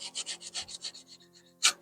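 Scratches on a Honda NC750X motorbike's foot peg are sanded by hand in quick rhythmic back-and-forth rubbing strokes, close and fairly soft, fading before one last firmer stroke.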